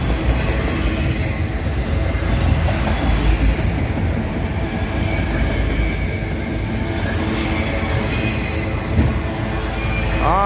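A CSX freight train rolls past on a railroad near Abbeville, South Carolina, a continuous loud rumble of wheels and cars with faint rail squeal, steady and close throughout.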